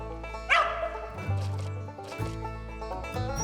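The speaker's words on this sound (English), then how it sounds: "Looks like Copper's treed." A Mountain Feist dog barks at a squirrel up a tree outdoors, a few loud, close yelping barks with a drawn-out whiny bay, spaced irregularly and alone without talk.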